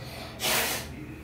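A person blows their nose once, a short breathy gust of roughly half a second rising out of quiet room hush and fading off.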